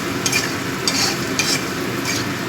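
A spice mixture with garam masala is stirred in a hot pan, a loud, close sizzle broken by regular scraping strokes about every half second.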